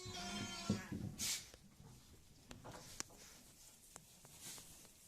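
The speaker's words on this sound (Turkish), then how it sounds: "Çok tatlı bir kuzu arkadaşlar" Newborn lamb bleating in a busy sheep-birthing pen, a few short bleats early on followed by scattered light clicks and taps, fairly close, with faint background bustle.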